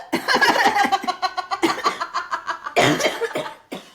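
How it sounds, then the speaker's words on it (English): Bursts of close coughing mixed with breathy laughter, several rapid fits with short pauses between them. "I've made her laugh, so she's coughing."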